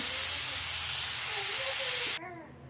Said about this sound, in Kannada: ಅನ್ನ ಇವಾಗ ಹವಾ ಬಿಡತ್ತೆ ನೋಡ್ರಿ